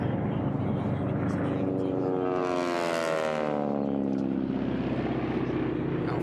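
A racing airplane at the STIHL National Championship Air Races drones overhead, its propeller roar swelling as it passes close by and fading again, with an announcer talking over the engine throughout.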